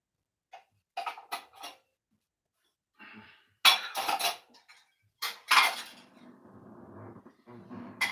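Ceramic plates clink and knock together in short bursts as they are shuffled and lifted, with brief pauses between handlings.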